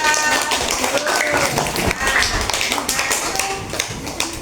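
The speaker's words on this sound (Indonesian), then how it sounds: "tepuk tangan untuk Mbak Fatin dan Mbak Anita" Students in a classroom clap for two classmates, quick uneven hand claps and taps heard close up, with voices talking alongside.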